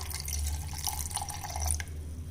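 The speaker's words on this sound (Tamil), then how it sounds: "இப்போ நம்ம தேவைக்கு தண்ணி விட்டுக்கலாங்க." Water is poured into a blender jar of jamun fruit pulp with lemon juice for a homemade juice, a steady splashing trickle with small drips running close and moderately loud throughout, no voices.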